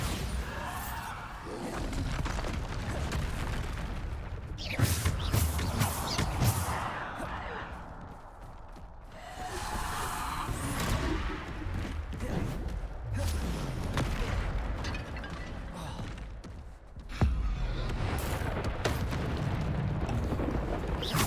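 Bombarda explosion spells blast repeatedly in Hogwarts Legacy combat, several heavy booms and crashing bursts coming one after another among other spell effects, with a strong hit near the middle and another sharp impact late on.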